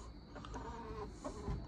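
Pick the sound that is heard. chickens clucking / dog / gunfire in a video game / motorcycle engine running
chickens clucking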